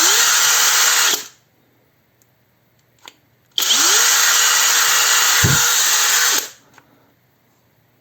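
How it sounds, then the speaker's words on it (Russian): A Heimerdinger LB180 cordless drill driver whirs loudly at high speed for about a second while drilling, stops as its cutout trips, then runs again steadily for several seconds before cutting off, with a faint click between. "включим наш шуруповерт, будем что-то мощное сверлить"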